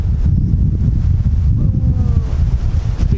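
Steady wind buffets the microphone outdoors on a beach by sand dunes at Hunting Island, South Carolina, a loud continuous low rumble with gusty roar throughout and no talking.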